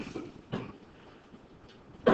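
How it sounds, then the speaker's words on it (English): A single cough in a classroom during a math lesson: a sharp burst near the start, another around half a second, and a final loud one at the end, with quiet room noise between. "I don't know why you're staring me down with that cough."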